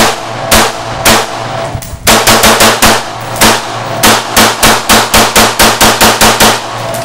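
An M16 rifle firing outdoors, loud sharp reports in an uneven rhythm, a few single shots and then quick evenly spaced strings of rounds, each with a short echoing tail.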